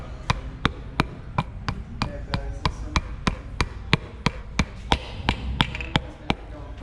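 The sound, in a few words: piston rings clicking into engine block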